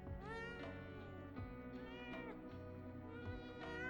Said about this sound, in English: We could have stopped to pet the cat.